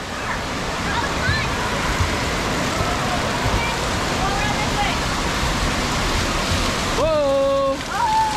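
Water in an indoor water park lazy river rushes and sloshes continuously in a loud, close wash, with a voice briefly rising over it near the end.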